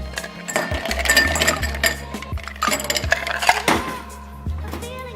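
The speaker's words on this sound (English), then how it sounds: "So start with a hurricane glass and fill that with ice." Ice cubes drop and clatter into a hurricane glass, a quick run of hard clinks and knocks with a few separate sharp taps over about five seconds, close and fairly loud with no talking.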